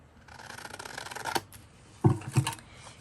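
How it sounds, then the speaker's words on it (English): Scissors cut through vellum paper scraps while someone makes junk journal ephemera, giving soft close snips and rustling paper, with a couple of sharper cuts near the end. "I'll go ahead and cut this off as well"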